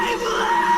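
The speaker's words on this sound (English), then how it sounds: "we hear one of the most gut-wrenching screams in all of anime" The anime character Gaara lets out a sustained, strained scream of anguish, loud and continuous for under a second.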